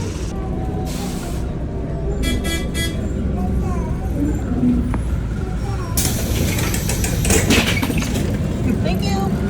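Riding a city bus in Marrakech, Morocco: a rumbling engine and rattling mechanisms continue throughout, with brief horn toots, hissing air brakes and a loud clatter, while people talk nearby.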